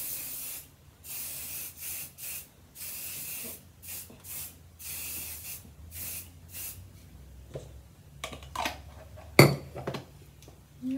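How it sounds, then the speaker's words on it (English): Olive oil sheen is spritzed onto short natural hair in a series of short, crisp spray bursts, each a separate hiss with small pauses between them, followed by a light clink of the bottle. "just spray a little bit on everywhere to give it a little bit of shine"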